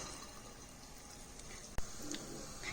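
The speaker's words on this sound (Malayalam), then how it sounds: "ഇത് നല്ലോണം എണ്ണ തിളച്ചിട്ടുണ്ടോ എന്ന് അറിയാൻ വേണ്ടി ഒരു ചെറിയ കഷ്ണം എണ്ണയിലോട്ടിടാം" A small piece of urad dal vada batter drops into hot oil and fries with a soft, steady sizzle and faint bubbling close by, with one sharp click partway through.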